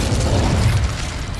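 A fiery Incendio spell cast in Hogwarts Legacy erupts as a loud, booming burst with a deep rumbling body that holds for about a second and then eases off slightly, with no talking.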